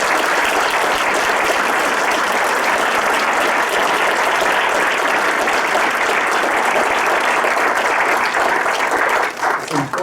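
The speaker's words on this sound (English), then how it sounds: "Let's give them a round of applause" An audience at a Holocaust remembrance event claps loudly and steadily, a dense sustained round of applause that tapers slightly at the very end.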